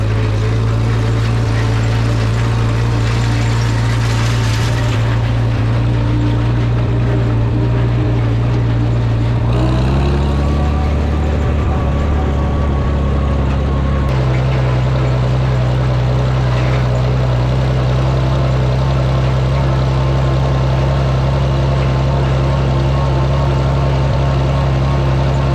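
A Farmall 460 tractor engine rumbles steadily while rolling in fourth gear, a loud, close, low drone with a brief shift in tone partway through.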